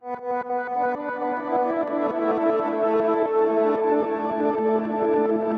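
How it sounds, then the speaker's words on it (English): Guitar run through a Fractal AX8 plex shift multi-delay, a dense wash of stacked pitch-shifted repeats and sustained harmonic layers, steady and loud throughout with no talking. "So just a mess of pitch shifting and delays."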